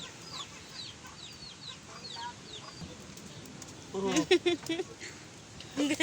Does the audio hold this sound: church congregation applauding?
no